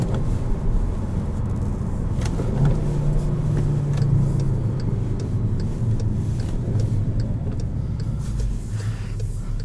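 A 2017 Volkswagen Jetta GLI with a manual gearbox drones steadily from inside the cabin, its engine note rising and falling slightly as revs change through a heel-toe downshift, loud and continuous with no talk.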